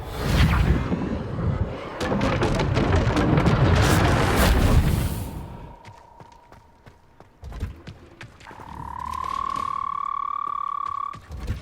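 The Confringo fire spell in Hogwarts Legacy bursts with a loud, crackling explosive roar and scattered booms that fade out, followed by a brief thud and then a rising magical tonal hum.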